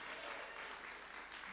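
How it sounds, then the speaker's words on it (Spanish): Brief, faint burst of church congregation applause, a dense even patter lasting under two seconds. "dale un fuerte aplauso."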